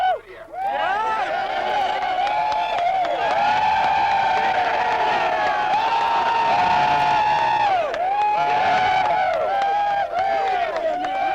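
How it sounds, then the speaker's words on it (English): A college football stadium crowd roars after a 97-yard touchdown in a 1994 game, with sustained cheering and whooping that swells and dips in waves, while a commentator's voice runs over the noise. "Listen to this crowd."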